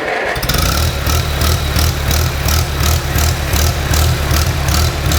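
A Farmall tractor engine cranks to life and settles into a steady, rhythmic low chugging idle, loud and close, with no talking.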